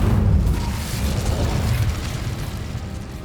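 An Incendio fire spell is cast in the Hogwarts Legacy video game, producing a loud booming whoosh with a deep rumbling roar that slowly fades.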